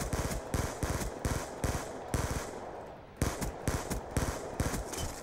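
Rapid automatic gunfire from Call of Duty: Black Ops 2 on PC, played online, comes as loud repeated bursts of sharp shots with brief pauses between volleys.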